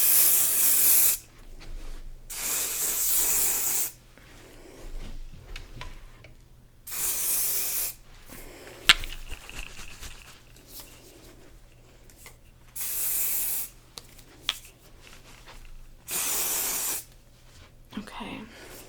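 A spray bottle mists hair at close range in repeated bursts of hiss, roughly five or six over the span, with soft whispered talk in between.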